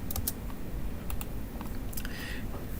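Spacebar presses and mouse clicks on a computer keyboard while working in SolidWorks CAD software, a few sparse, quiet taps scattered irregularly.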